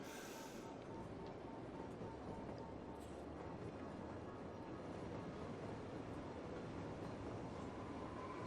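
A train rumbles steadily in the city-building video game Cities: Skylines, a continuous dense low roar with faint rail clatter that holds at an even level throughout, with no talk over it.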